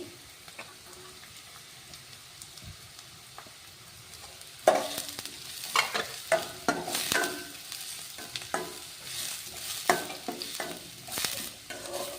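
Carrots being stir-fried for restaurant-style vegetable noodles, quiet frying hiss at first, then sharp repeated clanks and scrapes of a spatula against the pan over a steady sizzle.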